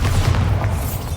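A deep, rumbling Bombarda spell blast in the video game Hogwarts Legacy, a dense sustained boom filling the short moment with no voices over it.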